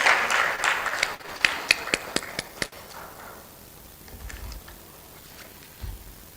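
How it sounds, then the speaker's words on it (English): Applause at a regional conference on women, peace and security: a brief burst of crowd clapping up front, then a few scattered individual claps fading into quiet room tone. "can we give him a round of applause as he comes up?"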